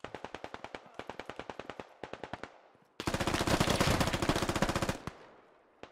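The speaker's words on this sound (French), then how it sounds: "Qui a tiré à l'intérieur du bâtiment là?" Rapid bursts of automatic gunfire crack out in a French squad shooter game, several short rhythmic volleys followed by a longer, louder sustained burst that cuts off abruptly.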